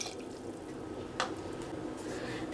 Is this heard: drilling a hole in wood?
no